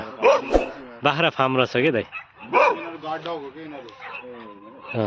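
Someone talks while dogs bark repeatedly close by at a goat farm, sharp yelping barks overlapping his speech.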